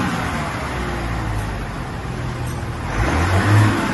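The engine of a 2021 Chevrolet Silverado Duramax diesel pickup fitted with dual exhaust tips idles with a low rumble and then rises briefly as it is revved, fairly quiet and steady, with no talk.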